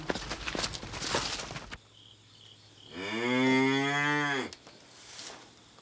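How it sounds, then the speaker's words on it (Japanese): A cow on a small mountain farm moos in one long, loud, drawn-out call standing alone, with rustling and handling noises before and after. "牛は2頭います。"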